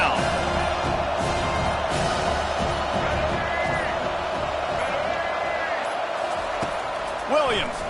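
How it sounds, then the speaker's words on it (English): Steady roar of a home crowd in a football stadium as the defense faces third down, a broad, sustained wall of noise under a commentator's continuous play-by-play. "Here comes this home crowd as the defense tries to get off the field on third down."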